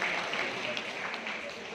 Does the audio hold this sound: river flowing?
no